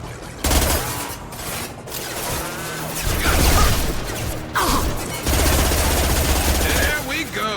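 Grenade blasts and rapid automatic gunfire in the Mass Effect 2 video game, loud crashing bursts and sustained volleys layered together, with voices briefly heard under the combat.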